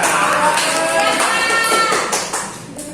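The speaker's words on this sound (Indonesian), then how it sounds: "Tepuk tangan dulu untuk kita semua" Students clap in a classroom during a teaching practice lesson, a scattered burst of hand claps mixed with voices talking over it, tapering off toward the end.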